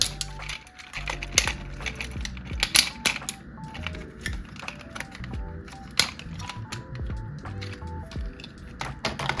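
Plastic Megazord toy pieces being folded into place give off a close series of sharp clicks, taps and light snaps, irregular and fairly quiet, with no talking.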